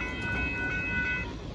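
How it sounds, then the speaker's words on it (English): A northbound Union Pacific mixed freight train with mid and rear distributed power units passes Dittmar Road in Austin, Texas, giving a steady rolling rumble with a thin, sustained metallic whine over it. "That's an interesting train there."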